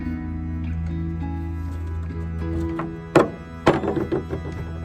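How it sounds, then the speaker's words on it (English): A low mechanical hum fades out, then two sharp metallic knocks ring out as a tool works a direct thread mount loose from the muzzle of a gun, followed by soft scraping and handling. "So we're going to start by taking off the direct thread mount that I have on the gun."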